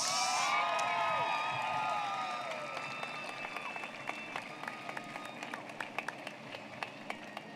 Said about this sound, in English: How about a round of applause for this year's Conquistadores?